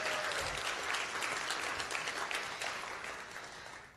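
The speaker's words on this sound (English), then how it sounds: "Can we have a round of applause for their work all the time here?" An audience applauds steadily at a Memphis event honouring a ballet ensemble and school, a dense wash of clapping that holds for several seconds and tapers slightly at the end.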